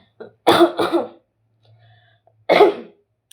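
A person nearby coughs and clears their throat: two quick harsh bursts, a pause with a faint low hum, then one more rasping clear of the throat.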